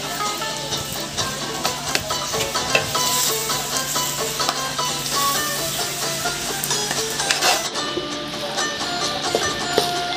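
Black glutinous rice biko stirred in a pan as it thickens: dense sticky scraping and dabbing of a spatula with a low sizzle underneath, close and continuous, slowing near the end.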